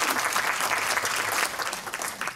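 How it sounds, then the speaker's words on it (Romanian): An audience at a June 2015 business event claps in lively applause that swells and dips slightly before thinning out toward the end. "vă rog aplauze pentru George."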